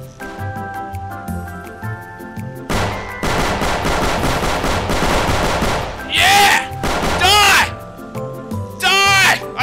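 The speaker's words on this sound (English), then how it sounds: "Someone's shooting me." Gunfire in the Roblox game Road to Gramby's crackles in rapid bursts over background game music, with shrill warbling cries cutting in near the end.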